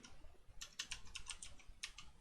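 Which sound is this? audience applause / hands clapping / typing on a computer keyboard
typing on a computer keyboard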